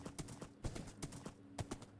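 Hoofbeats from a horse in the Minecraft video game, a steady, quick clip-clop rhythm of crisp taps, close and clear, with no talk over it.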